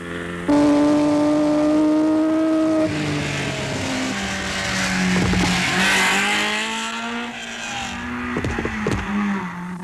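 Three white Alfa Romeo rally cars in close formation on the 1958 Coupe des Alpes, engines droning loud and near with steady then shifting pitch as they pass, tyres scrubbing and a few sharp clatters toward the end.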